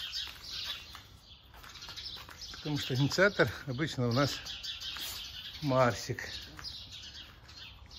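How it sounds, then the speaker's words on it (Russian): Small birds chirp and tweet outdoors on a fine day, a steady scatter of bright calls running all through while a person talks over them up close. "Такой день хороший, птички поют."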